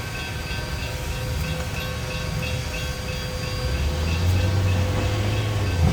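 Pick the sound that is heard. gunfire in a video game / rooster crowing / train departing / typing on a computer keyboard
train departing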